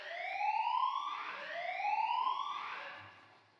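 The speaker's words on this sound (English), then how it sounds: "False alarm." An alarm siren wails in rising, sweeping tones, two long whooping cycles repeated back to back, loud and steady before trailing off at the end, with no voices over it.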